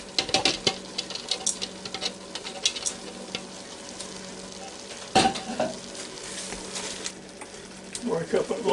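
Ground hamburger meat sizzles and fries in a Ninja Foodi while a utensil breaks it up, with scraping stir sounds coming in irregular bursts and a louder clatter midway, close and fairly quiet.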